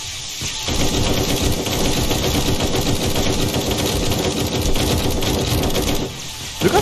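Rapid machine gun fire in the video game 7 Days to Die, a dense, continuous burst of loud automatic shots clearing a corridor, lasting about six seconds before a brief pause and a few final shots.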